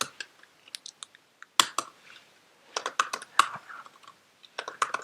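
Code is typed on a computer keyboard in irregular bursts of close, crisp key clicks with short pauses, in a quiet room.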